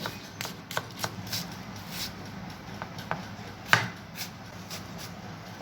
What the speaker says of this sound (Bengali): অবশিষ্ট থাকা পেঁয়াজ এবং ওর সাথে আরও 3টে ছোটো ছোটো পেঁয়াজ আমি এইভাবে চপিং করে নিলাম।